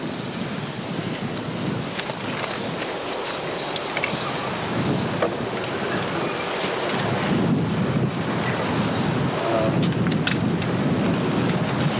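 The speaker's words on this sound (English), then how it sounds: "I just hope that the wind doesn't blow everything I have here away" Wind gusts outdoors at an evening 8th grade graduation ceremony at a school in Millville, New Jersey, a steady broadband rush with low buffeting on the microphone, continuous for the whole stretch with no clear talk over it.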